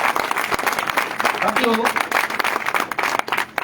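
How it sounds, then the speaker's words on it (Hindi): An audience at an LIC India insurance gathering claps in a brisk burst of applause, hands rattling under a man's amplified speech. "एक बार जोरदार तालियां अपन LIC के लिए बजाएं।"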